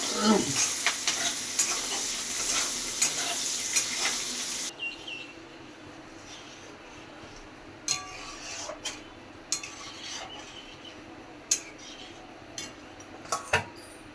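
Onions frying and being stirred in a pan; a bright, dense sizzle with scraping stirs fills the first few seconds, then drops to a soft background fry punctuated by sharp metallic clinks of a utensil against the pan.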